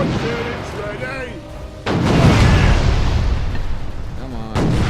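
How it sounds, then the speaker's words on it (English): A big ship cannon blast from the naval video game Furious Seas erupts near the two-second mark after quieter in-game sounds with faint voice-like tones, then settles into a sustained rumble, with another burst at the end. "Fire the bloody cannon!"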